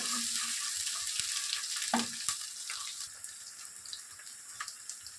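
Onions frying in a pan for egg semiya upma, a steady broadband sizzle with a few sharp ticks and scrapes near the start, continuing alone at moderate loudness.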